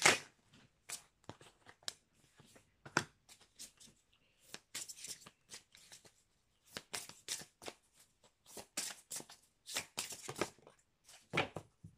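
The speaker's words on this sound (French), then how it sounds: "je vais prendre des cartes dans l'oracle du Cantique" Oracle cards are shuffled by hand in bursts of crisp riffles and soft slaps, close and clear, with short pauses between bursts and no voice.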